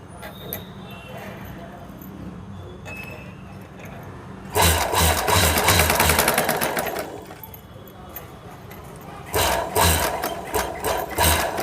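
A sewing machine stitches the boat neck of a blouse in loud, fast mechanical bursts, first a long run then shorter stitching spurts, with someone talking through the quieter stretches.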